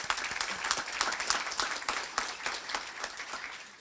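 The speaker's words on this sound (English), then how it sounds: "And so a round of applause for the 2," Applause at a college honors convocation in Venice, many hands clapping with individual claps standing out distinctly, fairly close, steady before tapering slightly toward the end.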